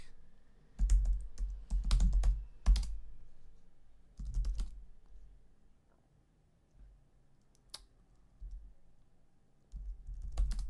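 Someone types on a computer keyboard during a GeoGuessr typing quiz, with close, crisp clusters of keystrokes in bursts separated by quiet pauses.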